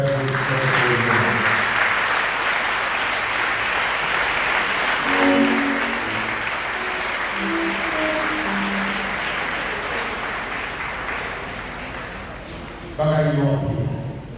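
A church congregation claps and cheers in a dense, sustained wash of applause, with voices calling out and singing over it throughout and a fresh swell near the end.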